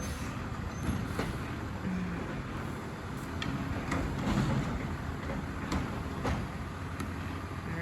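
A Republic Services garbage truck approaches from a distance, its engine a low steady rumble with occasional clanks and hisses over outdoor ambience.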